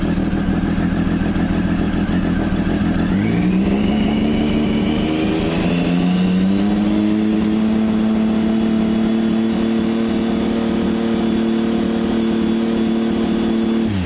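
Triumph Tiger 955i motorcycle engine idling, then revved up to around 5,000 rpm and held there with a steady, loud, close mechanical drone during an MOT test.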